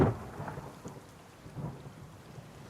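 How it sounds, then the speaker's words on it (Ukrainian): Steady rain hiss in the video game The Forest, with low rumbling thunder underneath, continuous and moderately loud, with no voices. "почався дощ"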